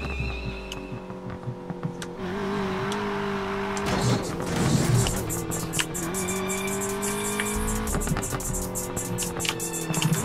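Car engines drone and rev in a Need for Speed PC racing game, a steady layered motor tone with shifting pitch, a brief rougher surge midway and occasional tire noise, no voices.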